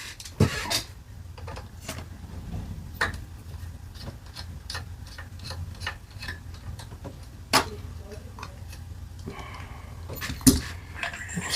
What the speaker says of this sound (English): So we'll remove these two screws, set them somewhere safe.